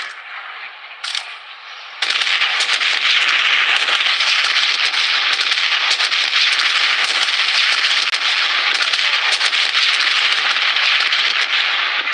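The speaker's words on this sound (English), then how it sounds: "bombardment on its way" Artillery bombardment in the Blood Strike battle royale shooter: after a quieter opening, a loud, dense, continuous crackle of rapid explosions and gunfire-like bursts runs unbroken to the end.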